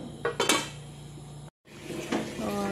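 A lid is set onto a cooking pot of fish, giving a couple of close metallic clanks and scrapes, then a brief silence and a faint rattle of cookware.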